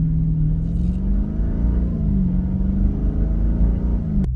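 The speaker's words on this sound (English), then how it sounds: "until you step on the gas like this" A 6.4L Chrysler 300C's V8 rumbles loud and close as the car accelerates, steady deep engine drone rising slightly in pitch, with no talk over it.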